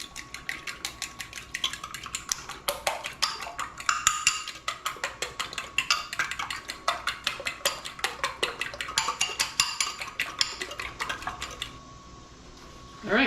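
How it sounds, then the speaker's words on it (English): Three eggs beaten in a bowl with a whisk or fork for a key lime pie filling, a fast, steady run of clicking strokes against the bowl that goes on for several seconds, then fades to near quiet at the end. "Now I have here 3 eggs that I'm gonna beat."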